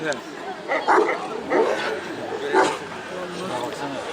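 A Kangal dog gives several short barks and yips at a dog competition, mixed in among people talking nearby.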